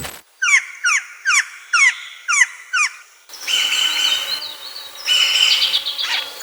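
Eurasian jay calling: a run of six short, evenly spaced chirping calls, then harsh, raspy, drawn-out screeches, fairly close and clear with no voices.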